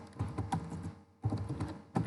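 Keys clatter on a computer keyboard as code is typed, a quick close run of soft taps, then a short pause before the typing resumes.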